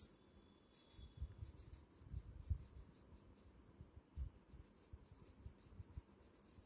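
Pen or pencil writing out numbers in words on paper during a fourth-grade maths lesson, a steady scratchy run of strokes with short pauses, close and faint, no voice.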